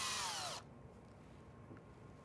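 A power drill bores into a wooden yarn bowl on the lathe, a loud, steady whine lasting about half a second before it cuts off abruptly, leaving a quiet room hum.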